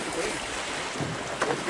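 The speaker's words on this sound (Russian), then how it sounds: "ждем, пока стихнет ветер" Wind gusts steadily against a raft on a river, making a broad rushing hiss with microphone buffeting that stays constant throughout.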